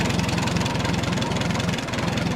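A close, loud idle from a rebuilt 1938 Minneapolis Moline Z tractor, its engine chugging in an even low pulse with a faint knocking clatter and no voices.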